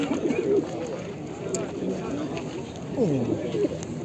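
Pigeons coo in soft, rolling calls against a busy background of voices and murmur at the Edirnekapı bird market.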